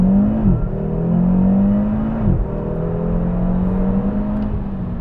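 Audi RS3 pulling hard up a motorway on-ramp in Greece, its engine droning loudly and steadily inside the cabin, pitch climbing through two gearshifts with a brief dip at each change.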